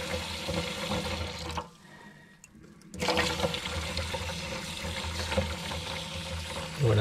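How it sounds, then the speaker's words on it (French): Water runs steadily from hot and cold taps in a camper van with a broad rushing hiss, stops briefly for about a second, then starts flowing again. "Ouvrir les robinets côté eau chaude et eau froide."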